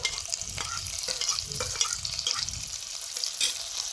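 Grated ginger and chopped green chili fry in hot oil in a pan, a steady soft sizzle with intermittent stirring scrapes and crackles, close and moderately quiet, no voices.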